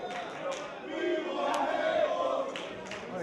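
A rowdy wrestling crowd at the Regent Showcase Theater during a falls count anywhere match, yelling and shouting in a sustained roar that swells midway, with scattered sharper cries rising above the din.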